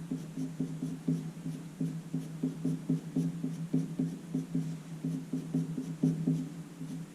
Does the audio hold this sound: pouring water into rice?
no